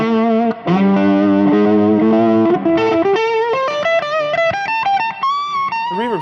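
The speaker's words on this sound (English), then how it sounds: "The reverb smooths out the blackface." An electric guitar played through a blackface amp with reverb rings out loud and alone, sustained chords giving way to a climbing run of single notes with a smooth, slightly overdriven tone.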